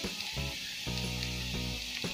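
A masala dosa sizzles on a hot pan just after being flipped, a soft steady frying hiss with a few faint scraping touches, close and quiet throughout.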